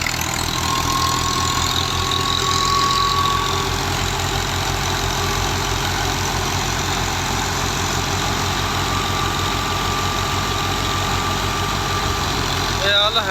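A 2005 Al Ghazi tractor engine idles steadily at close range, a loud low rhythmic chug with a constant drone that does not change, no voices over it.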